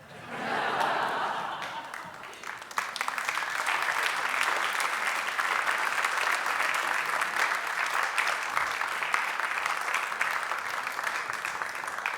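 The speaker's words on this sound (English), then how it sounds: "One more round of applause for Anna." Sustained applause from an awards ceremony audience, loud and steady throughout with a few chuckles mixed in, and no voices speaking over it.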